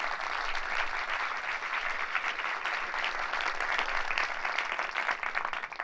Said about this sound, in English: So let's please give them a big round of applause.